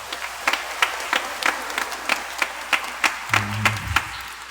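A church congregation at a Christmas Eve dawn Mass in Quiapo claps together, sharp, fairly loud hand claps in a loose repeating rhythm, with a low murmur near the end.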